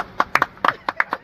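A few people clap in a short, uneven burst of about eight sharp, close hand claps over a second, each crisp and separate, with no talk underneath.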